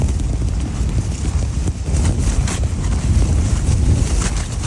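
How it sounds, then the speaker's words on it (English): Wind buffeting a tent on a mountain trail at Mt Lemmon, a continuous loud roaring rush with flapping gusts close around the microphone. "It's not the cold, it's the wind."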